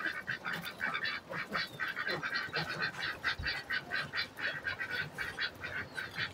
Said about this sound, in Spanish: ahora nos venimos al corral en donde tenemos a todos los patos